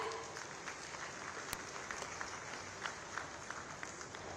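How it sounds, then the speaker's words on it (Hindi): Audience applause at a data centre inauguration ceremony with the chief minister in Gautam Buddh Nagar, a steady, fairly faint wash of clapping lasting throughout with no voices. "जोरदार तालियां हो जाए"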